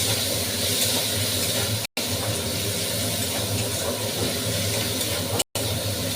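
Chopped onions frying for a spicy crab curry in a wok still coated with crab residue, giving a loud, continuous broadband sizzle that stops abruptly twice in brief gaps.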